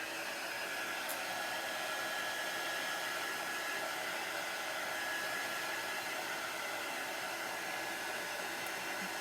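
A hair dryer blows on a freshly painted porch sign, a steady, loud, broadband rush of air that holds even and unbroken from start to finish with no voices.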